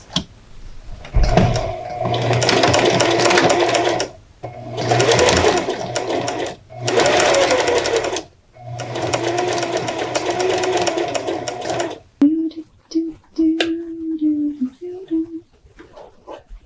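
A sewing machine stitches a clean-finished waistband onto the front of a garment in four loud, steady whirring runs separated by short pauses, then fades to quieter handling sounds.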